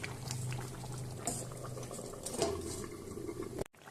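Potato and jackfruit seed curry simmers in a covered pot, a steady bubbling boil close by with soft clinks of the lid and utensils, ending abruptly; no talking.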